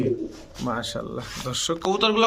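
Pigeons coo softly nearby while someone talks over them, the low throaty calls repeating in short bursts.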